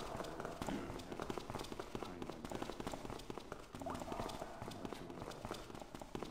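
Horses tramp in the stealth video game Thief fan mission The Korrigans, a faint, continuous patter of hooves heard from a distance.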